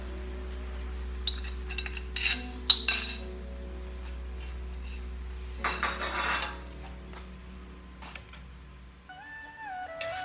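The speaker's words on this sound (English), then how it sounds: "I'll give it a little stir because it's settled at the bottom a little bit" Utensil clinking and scraping in a bowl of lo mein sauce as it is stirred, scattered light taps and a brief scraping swirl over a steady low hum, ending with a faint electronic tone.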